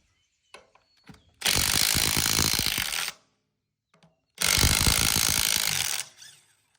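A wrench, likely a powered impact tool, works bolts loose on a Ford 8N tractor in two loud buzzing, rattling bursts of about two seconds each, separated by quiet pauses with faint clinks.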